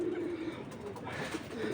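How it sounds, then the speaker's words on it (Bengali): A pair of racing pigeons coo softly in a low, brief murmur, faint against steady background noise in a village yard. "এই যে আমার একজোড়া রেসের কবুতর"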